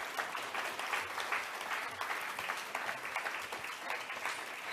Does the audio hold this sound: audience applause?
yes